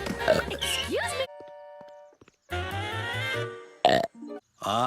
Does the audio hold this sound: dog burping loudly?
yes